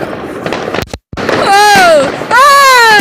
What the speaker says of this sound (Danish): Vi står herude, og der er fyrværkeri.